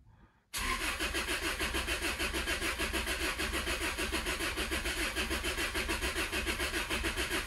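A car engine cranks and catches after a short quiet moment, then settles into a loud, steady, rhythmic idle that runs to the end with no talking.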